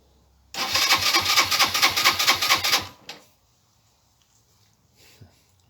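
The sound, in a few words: Suzuki GN 125 motorcycle engine revving with throttle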